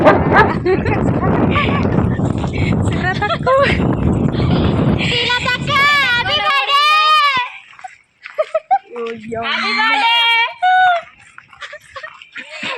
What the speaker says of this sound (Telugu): ఈ ఊళ్ళో కుక్కలు కూడా బాగా